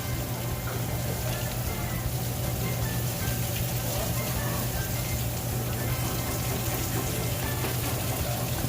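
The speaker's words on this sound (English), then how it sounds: "That is so much rain, guys." Steady, dense rainfall pours down continuously, a loud broadband hiss with constant splashing and no voices.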